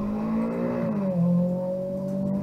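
A 50cc motorcycle engine drones steadily nearby, its pitch dipping then rising slightly as it revs, a continuous buzzing hum on the road.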